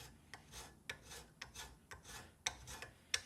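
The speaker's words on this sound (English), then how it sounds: "some draw filing evened up the surface finishes there" A hand file draw-filing a milled steel part of a float-lock vise, giving a rhythmic series of about ten close, rasping strokes, each a short scrape followed by a brief pause.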